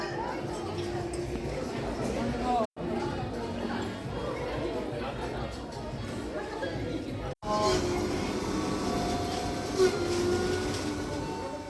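A train ride in Japan toward Mount Fuji: a steady rumble and rattle of railway carriages fills the cabin, with passengers chattering quietly underneath and a couple of brief dropouts.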